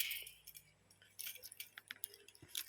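Metal keys jangle and clink in irregular bursts throughout, close and crisp, with light rattling against a quiet room background and no talk.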